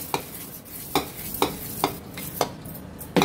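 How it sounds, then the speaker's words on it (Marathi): Dosa batter is mixed by hand in a bowl, with six or so soft, rhythmic wet stirring strokes about half a second apart, close and fairly quiet. "डोस्याचं पण बॅटर मिक्स करून घेते।"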